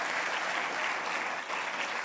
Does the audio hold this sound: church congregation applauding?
yes